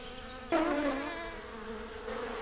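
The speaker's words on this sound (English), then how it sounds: "The bees were still buzzing busily from flower to flower in the field." Cartoon bees buzz in a close, wavering drone that swells suddenly and then settles into a steady hum.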